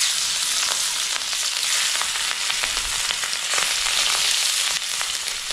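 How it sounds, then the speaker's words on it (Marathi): Marinated prawns coated with masala and salt fry steadily in a pan, a continuous close, loud sizzle with faint crackles and no talking. "त्याची कोळंबी मी थोडासा त्याच्यामध्ये मसाला मीठ टाकलाय ना, ते पहिली थोडीशी फ्राय करून घेते हलकीशी."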